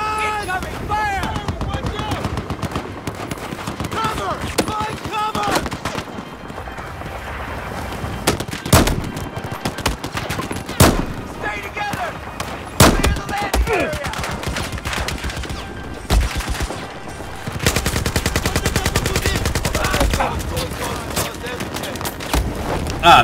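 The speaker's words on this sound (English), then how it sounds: "Machine gun! Incoming fire!" Machine gun fire in the Battlefield 4 single-player campaign, with dense overlapping bursts and occasional heavier blasts running throughout, loud and continuous, with voices shouting over the shooting.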